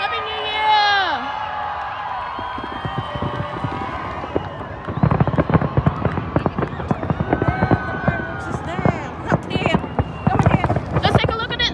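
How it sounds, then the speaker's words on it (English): New Year fireworks go off in a rapid, crackling barrage of pops and bangs, starting after a moment and building into dense bursts, heard from a distance with people shouting and talking throughout. "There's the fireworks."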